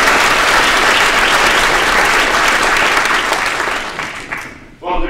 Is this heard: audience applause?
yes